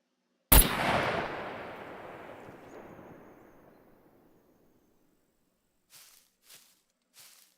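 A gunshot in the survival video game Scum: one sharp, loud shot with a long rolling echo that fades over several seconds, followed by three faint, brief distant sounds.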